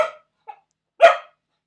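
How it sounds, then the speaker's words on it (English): A dog barks sharply three times in short separate bursts, loud and close, with silent gaps between and no talking. "that's going to make it very hard to continue my video if you keep barking"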